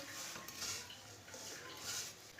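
A spoon stirs browned vermicelli with milk and sugar in a pan for egg seviyan. Soft, quiet metallic scrapes and clinks come in a few gentle strokes up close, with no talking.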